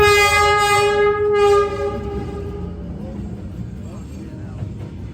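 A train on a narrow train street in Vietnam sounds a long, loud horn close by, then rumbles past with a lower rolling clatter while a crowd murmurs around it.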